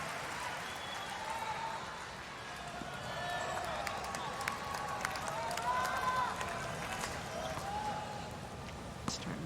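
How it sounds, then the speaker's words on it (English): Tennis crowd at a 2024 US Open third-round match between Emma Navarro and Marta Kostyuk, a steady murmuring roar with scattered cheers and whistles building slightly in the middle, a commentator's voice occasionally over it. "Starting to hear the crowd get a little more involved."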